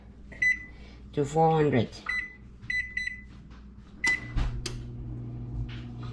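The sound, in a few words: oven control beeps while setting the temperature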